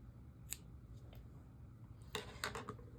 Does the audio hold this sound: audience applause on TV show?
no